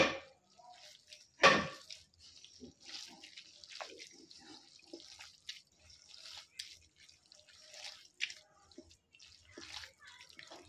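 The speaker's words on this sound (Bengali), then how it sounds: "পরিমাণ মতো জল দিয়ে দেবো।" Water is poured into a fish curry in a pan, a close splash followed by soft trickling, dripping and gentle bubbling that lingers for several seconds.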